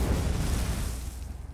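Inferno staff fire explosion in the video game Elder Scrolls Online, a heavy booming blast already underway that rumbles and fades over about a second and a half.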